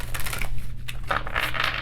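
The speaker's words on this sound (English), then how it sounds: "let's do some shuffling" A deck of oracle and tarot cards is shuffled by hand, giving quick riffling and clattering flutters in short bursts, close and fairly loud, with no talking.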